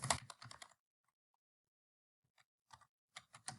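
Keystrokes on a computer keyboard during a typing drill, in short clusters of quick clicks with a long silent pause in the middle, fairly quiet and close.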